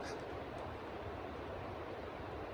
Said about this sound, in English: the river's right there